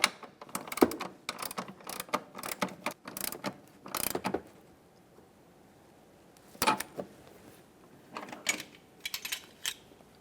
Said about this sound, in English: While holding this area, we'll continue on by tightening that locking nut.